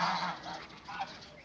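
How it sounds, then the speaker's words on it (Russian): Domestic geese out at pasture, the neighbours' flock walking up to join another flock, give a few overlapping honks close by, loudest at the start and again near the end, with no talking. "Соседские гуси вот уже видно идут за нашими."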